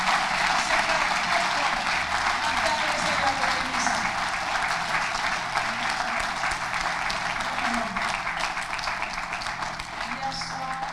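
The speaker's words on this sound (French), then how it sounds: "Sous vos applaudissements" Sustained audience applause fills a church prayer and fasting service, a dense steady wash of many hands clapping at close range for the full stretch, with faint voices beneath.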